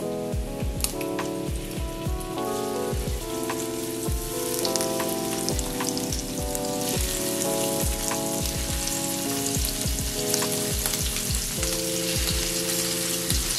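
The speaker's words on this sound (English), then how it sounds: "the bacon is out and the shrimp, they're going in" Shrimp fry in rendered bacon fat, giving a continuous close sizzle with crackling pops and a few clanks of stirring throughout, with no voices.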